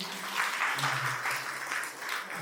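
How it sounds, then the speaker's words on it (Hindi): A seated audience at a spiritual dharna class in Madhuvan breaks into brief, steady applause, a soft, even patter of many hands lasting a couple of seconds. "ताली बजा दो अपने लिए।"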